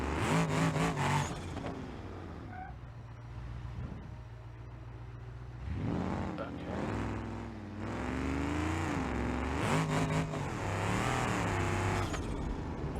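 A drag-transmission car in the BeamNG.drive racing game revs hard against its rev limiter, the engine note climbing and holding in loud sustained bursts with brief dips between pulls.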